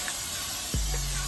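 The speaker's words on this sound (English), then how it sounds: "I got my cooking spray out here." Cooking spray hisses in a steady, close burst onto seasoned ribs, lamb chops, brats and kabobs on a backyard grill, with a low hum rising partway through.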